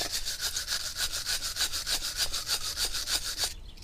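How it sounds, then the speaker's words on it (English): Rapid back-and-forth scrubbing of a wire brush over a grimy brake caliper bracket on a Calibra, with about two dozen rhythmic rasping strokes close up, stopping abruptly near the end, with no one speaking. "Gotta clean it up with wire brushing because it's very nasty."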